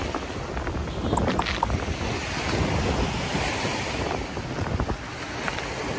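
Sea waves washing on the shore of Manila Bay, with gusting wind buffeting the microphone; a continuous broad roar of surf close by with no speech.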